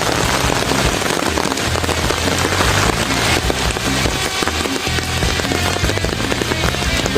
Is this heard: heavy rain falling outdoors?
yes